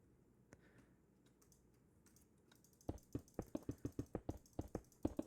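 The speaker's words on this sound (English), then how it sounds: "I don't know if you can hear my mouse clicks" Computer mouse clicking: sparse faint clicks at first, then a rapid, regular run of sharp, close clicks, about two or three per second, with no talk.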